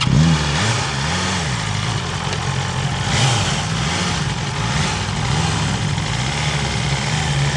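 A motorcycle engine running at low speed during a riding lesson, steady and close with gentle surges as the throttle and clutch are worked, no talk.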